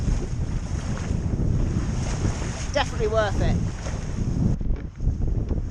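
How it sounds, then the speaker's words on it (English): Wind roars and waves rush steadily around a small wooden sailing dinghy on open sea, loud and continuous, with a brief spoken remark partway through and water splashes near the end. "Ah, some nice big waves to surf down."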